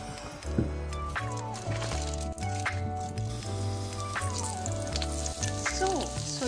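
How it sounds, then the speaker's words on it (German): Chopped garlic, onion, zucchini and red and green peppers sizzle in a pan for a meat strudel filling, with a few stirring clicks. Steady background music plays over the quiet frying. "zuerst röste ich das Gemüse an"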